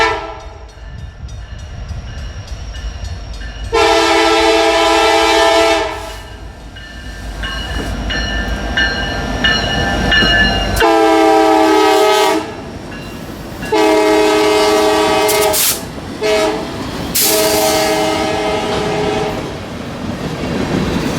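A freight train led by a Thundercab SD70M-2 locomotive rolls past in Rockford, Illinois, sounding several loud, sustained multi-tone horn blasts over the rumble and clatter of the passing cars.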